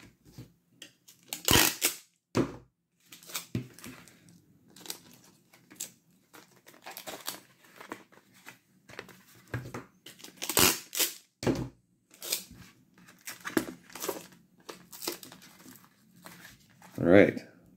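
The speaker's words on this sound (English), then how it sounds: "I like to tape all 3 sides" Packing tape being pulled off the roll and pressed onto a cardboard shipping package for coins, several loud ripping screeches interleaved with crinkling and patting of cardboard, close up, with someone talking between strips.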